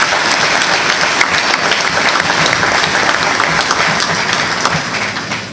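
Sustained audience applause at a French-language event, a loud, dense crowd of clapping hands continuing evenly for over five seconds and fading slightly at the close.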